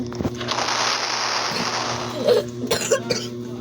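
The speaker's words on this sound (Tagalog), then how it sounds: "may sakit kasi ako guys, ubo." Harsh, noisy coughing fills the first stretch, followed by a few short throaty bursts, close by over a low steady hum.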